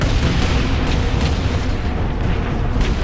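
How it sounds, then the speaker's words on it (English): Grenades go off in a Space Marine video game battle against orcs, a dense, continuous roar of booming explosions and bursts that fills the whole stretch, loud and near with no pause. "Let's throw grenades in this."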